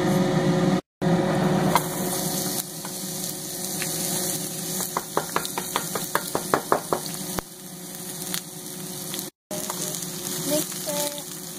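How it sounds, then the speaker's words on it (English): Onions dropped into hot oil in a pan for Filipino pork bistek, giving a steady close sizzle with a burst of crackling spits midway and a few brief dropouts. "once the oil is nice and hot, we can go ahead and put in our onions"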